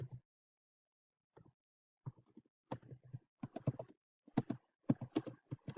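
Keys clack on a computer keyboard in quiet, irregular bursts of typing that grow busier toward the end, soft and close with no speech.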